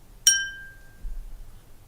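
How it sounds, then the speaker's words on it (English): A bell rung once for a class, a single bright ding with a ringing tone that fades over about a second, heard alone over faint room noise. "I'm going to ring the bell"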